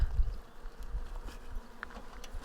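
Honeybees buzz around an opened weak hive in an apiary, a soft, continuous hum close by with low rumbling handling noise underneath.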